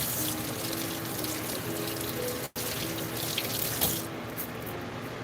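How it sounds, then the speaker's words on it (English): Hands are rinsed under a running kitchen tap, a close, continuous hiss of splashing water with a brief interruption in the middle, and no speech. "let me rinse my hands"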